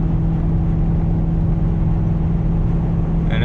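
Steady low exhaust drone from a loud car cruising on the highway at about 2,400 RPM, a constant deep hum with road and wind noise filling the whole stretch.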